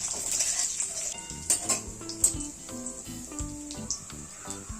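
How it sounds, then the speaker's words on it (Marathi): Urad dal roasting in tempering oil with mustard seeds for vada pav filling, a soft sizzle under frequent clinks and scrapes of a spoon against the pan, close by. "उडदाची डाळ अशी खमंग थोडीशी लालसर अशी भाजून घ्यायची."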